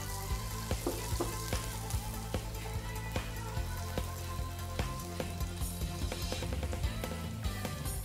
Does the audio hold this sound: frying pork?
yes